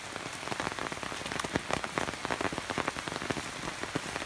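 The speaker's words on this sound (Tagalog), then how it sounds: "Ang lakas talaga ng ulan." Heavy rain beats down on a surface outside a house. The patter is dense and unbroken, with scattered sharper drops striking close by, and no voices are heard.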